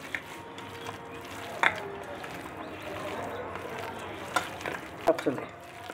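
Goat fat pieces frying in deep mustard oil, a soft steady sizzle with occasional clinks of a utensil against the pan, with faint voices in the background.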